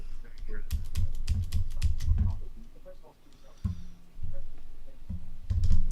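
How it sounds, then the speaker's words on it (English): Rapid clusters of keyboard key presses on a computer keyboard, repeated sharp clicks in bursts with short pauses, close and clear, with a person talking quietly in between. "Pressing the Shift key 5 times will turn off sticky keys."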